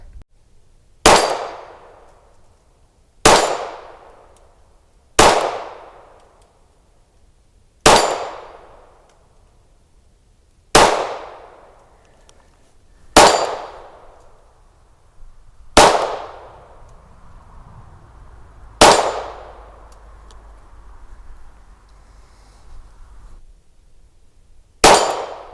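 Ruger Mark IV 22/45 pistol shots ringing off a steel target, eight sharp cracks each followed by a metallic clang that decays over about a second, spaced a few seconds apart, with no talking.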